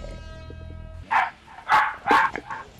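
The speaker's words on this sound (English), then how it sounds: "Oh, shut the dogs up." Dogs bark in the background of a home gaming session, four sharp barks in quick succession following a steady electronic tone, moderately loud.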